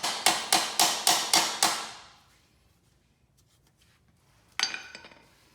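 Hammer tapping a short shifter adapter into place on a 2015-or-later Subaru WRX during a Kartboy short shifter install: six quick, evenly spaced metallic taps, then a pause and one more sharp tap, close and loud.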